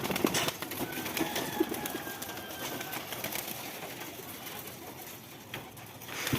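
Native Bangladeshi pigeons coo softly in low, repeated pulses near the start, on a rooftop, over a busy, noisy background that continues throughout.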